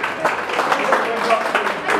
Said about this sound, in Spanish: El aplauso bien bonito que se escuche.